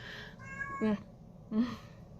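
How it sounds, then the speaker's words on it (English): A pet cat meows twice, close and fairly loud: a first drawn-out, wavering call followed by a short second meow about half a second later, over a quiet room. "I'm arguing with the cat."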